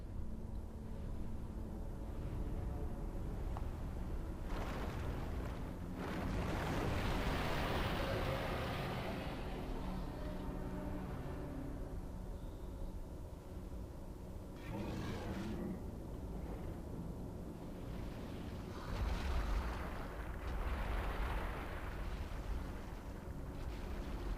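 Dark Souls 2 lava area ambience: a dense, continuous low rumble and roar with rising and falling surges of hissing bursts, steady and enveloping with no voices.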